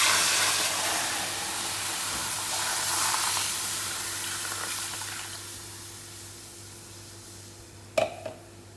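Milk poured into a hot pan of browned suji and carrot with cardamom, giving a loud, broad sizzling hiss that gradually fades and settles, ending with a brief clink.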